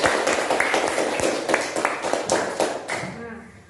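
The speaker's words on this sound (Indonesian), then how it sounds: "Kasih tepuk tangan dulu" Classroom applause during an Indonesian-language lesson on short stories, a burst of clapping from a group of students that fills the room, with a voice talking over it before it fades near the end.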